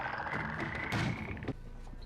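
Toads croaking from a TV drama scene, a steady low trilling chorus, fairly faint and continuous, with no talk.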